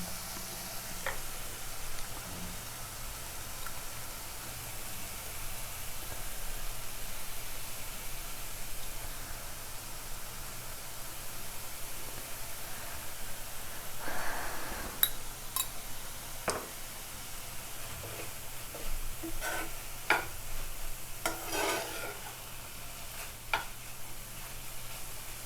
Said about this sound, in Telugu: బాగా కలిపెట్టాలి ఉప్పు వేసిన తర్వాత.